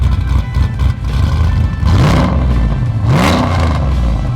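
A nitrous-fed 650 horsepower Trailblazer hot rod engine revs loudly up close, two rising throttle blips swelling over a deep rumbling idle.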